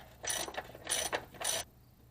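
A ratchet tightens the plug on a vehicle's transfer case in three quick bursts of rapid clicking, close and clear, then falls quiet.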